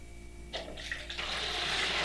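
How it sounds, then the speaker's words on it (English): Deionized water pours into a 1-liter beaker, starting abruptly with a splash and settling into a steady, rising rush of liquid that continues to the end. "I pour in deionized water to make 1 liter."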